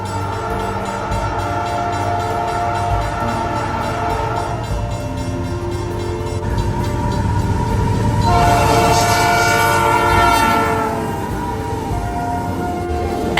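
Locomotive CP9816 sounds its P3 horn, a loud sustained multi-tone chord that swells in two long blasts over the rumble and rattle of the passing train.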